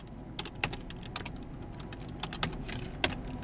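Quiet, irregular keystrokes on a computer keyboard, a few scattered taps and short runs of clicks over a low background hum.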